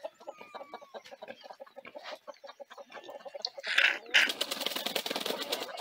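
Chickens settling to roost in trees at dusk in Palmas, Bagé, Rio Grande do Sul, with a rooster among them: scattered soft clucks and murmurs, then a few louder, closer squawks near the end.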